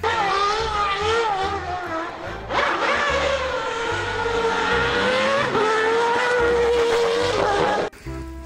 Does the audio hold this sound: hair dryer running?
no